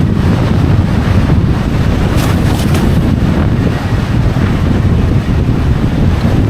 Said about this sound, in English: Now it's really windy again.